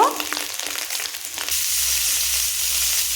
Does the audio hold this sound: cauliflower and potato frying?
yes